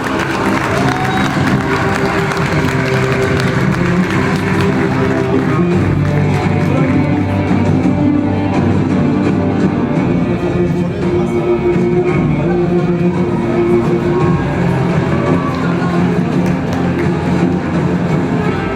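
Sustained crowd applause fills an awards ceremony hall as a female fantasy (fantezi) music singer is invited on stage to receive her prize at the 2023 Yılın Starları awards in Turkey, loud and continuous throughout.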